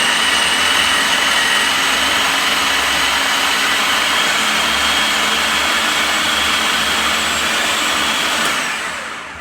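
A food processor runs on high, blending dip ingredients with a loud, steady whirring roar that holds for several seconds and then begins to wind down at the end.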